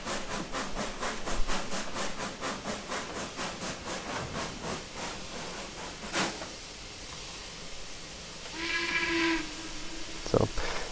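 Union Pacific 0-6-0 steam locomotive in Trainz 2019 chuffs in a rhythmic series of hissing exhaust beats, then sounds a short steam whistle blast followed by a sharp knock, fairly loud and close.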